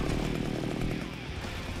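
A chainsaw revs loud and steady for under two seconds in the Xbox 360 horror brawler Splatterhouse, a continuous buzzing engine drone with no pauses.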